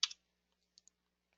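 A computer keyboard gives a few faint, sparse key clicks as a view name is typed: one sharper tap at the start, then two soft clicks and a last faint tap.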